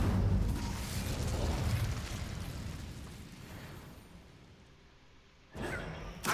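A fire spell cast in Hogwarts Legacy gives a loud whooshing, roaring burst that slowly fades over several seconds, then a fresh sharp crackle of flame flares near the end.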